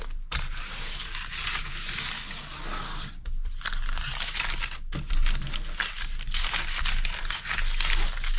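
Parchment paper crinkles and crackles steadily while it is pressed into a buttered baking sheet for peanut brittle. The rustling is close and continuous, with a few brief gaps and sharper crunches.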